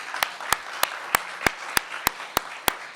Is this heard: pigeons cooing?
no